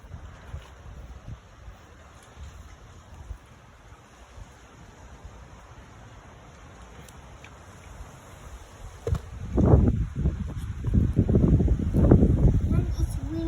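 Wind gusts across an open outdoor spot on a sunny day, a steady low rumble that swells into loud buffeting against the microphone near the end, with people chatting faintly underneath.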